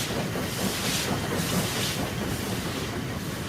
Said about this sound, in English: Trains leave Fenchurch Street under a covered way.